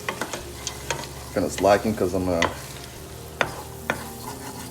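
A wooden spoon scrapes and stirs bacon bits in a sizzling pan while making a creamy potato soup, with soft intermittent knocks against the pan under a man's brief casual speech.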